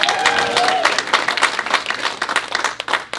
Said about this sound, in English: Round of applause for the other comedians that came up with